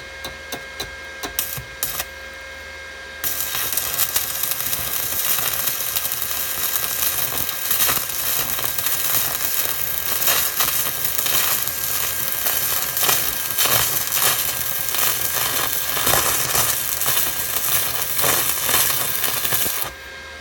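Stick welding on a piece of metal with an old Parkside 80 A inverter welder, a steady crackling, sizzling arc lasting most of the stretch after a brief quieter start.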